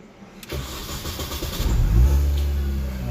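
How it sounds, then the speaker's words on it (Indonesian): A Mini Cooper S with a supercharged 1600 cc engine starts after a moment of near silence: a sharp crank catches, then the engine settles into a loud, deep, steady idle rumble close by. "Yuk kita nyalain, kita dengerin nih suara mesin 1600 cc superchargernya ini."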